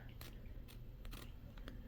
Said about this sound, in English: I get my scissors in there